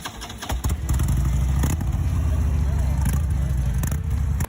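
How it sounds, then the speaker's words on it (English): A Harley-Davidson Electra Glide Standard motorcycle's exhaust gives a deep, steady, loud rumble up close, holding a constant idle-like throb for several seconds after a brief rise at the start. "Exhaust sound of the Harley-Davidson Electra Glide Standard"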